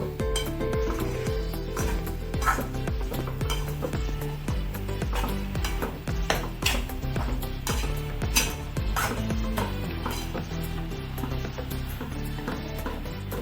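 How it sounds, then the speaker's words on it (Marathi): Cardamom powder being stirred into a sweet mixture in a pan, with repeated scraping and clinking of a spoon against metal in an uneven rhythm, close and fairly loud, no speech. "चांगलं हलवून घ्यायचं, जास्त करपायचं नाही।"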